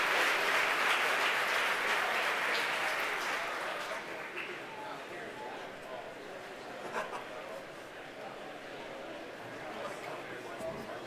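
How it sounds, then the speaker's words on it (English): A crowd cheers and applauds at SpaceX headquarters during a Starlink launch. The roar is loudest at the start, then slowly fades under a commentator's voice. "The crowd here at headquarters cheering."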